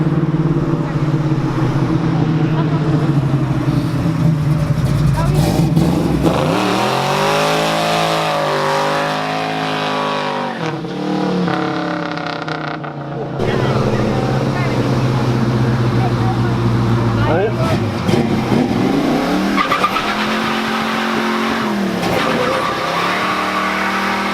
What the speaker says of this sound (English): Now that's how you rip a burnout, hey?